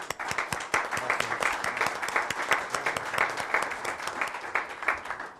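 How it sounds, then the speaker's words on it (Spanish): An audience at a national debate panel on energy reform gives a guest a steady round of applause, with dense, even clapping that keeps up for several seconds without a break. "un caluroso aplauso"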